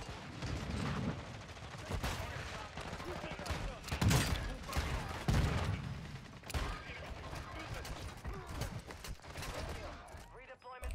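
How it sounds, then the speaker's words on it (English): Suppressed RPK gunfire in Warzone 2, heard as dense overlapping bursts of shots and mechanical clatter throughout, loud and busy, with a few sharper impacts partway through. "they're shooting a silenced RPK"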